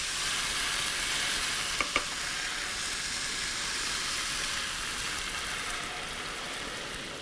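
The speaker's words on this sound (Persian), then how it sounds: "من به اندازه 2 کاپ آب جوشیده بهش اضافه میکنم" Steady, loud sizzling and hissing as two cups of boiled water are added to a hot pot of Persian celery stew, with a couple of faint clinks near the start and no voices.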